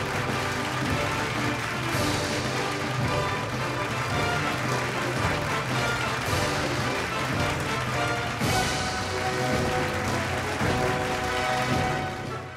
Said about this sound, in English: Let's have a huge round of applause for Naresh Steel Industries Private Limited.